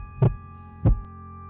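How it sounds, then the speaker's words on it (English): Two deep, thumping heartbeat pulses, a pounding heart sound effect, spaced about half a second apart over a low steady hum, with no voices. "my heart pounding in my chest."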